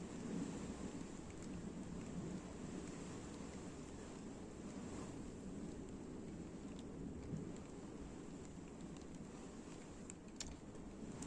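Steady rain pattering continuously, a dense wash of noise with no voices, constant and fairly close throughout.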